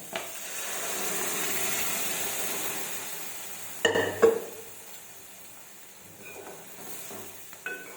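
Cooked toor dal is poured into a sizzling tempering in a pot, giving a soft hiss that swells, then a few sharp metallic knocks and scrapes from stirring before the bubbling settles to a quieter simmer.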